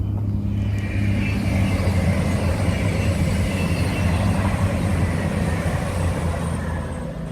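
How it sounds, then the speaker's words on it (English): A loud, steady low rumble of a train passing nearby, with rolling mechanical roar throughout and slight fading at the end. "Yes, I am quite close to the trains now."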